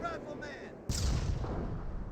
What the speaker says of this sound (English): He's receiving a lot of explosions there. Wow, those explosions going on for a long time, aren't they?